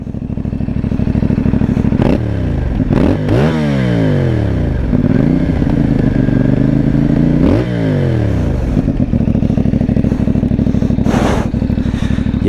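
CF Moto 450 MT motorcycle engine through its standard exhaust pipe, revving up and down repeatedly with sweeping pitch rises and falls over a steady rumbling idle, loud and close with no speech.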